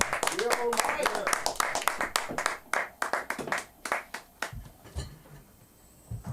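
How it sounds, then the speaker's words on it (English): Applause from a comedy show audience, a burst of clapping for a comedian that fades over a few seconds while a voice talks over it. "round of applause"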